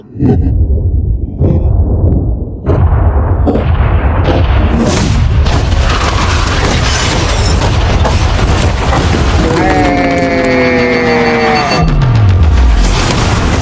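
A yacht blown up in a large explosion: a loud booming blast with sustained roaring rumble and crackling debris, followed by rising and falling whistling tones, with voices reacting underneath.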